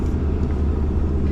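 A car drives through the small town of Cobar, its steady low engine and road rumble heard from inside the vehicle, constant and fairly loud with no break.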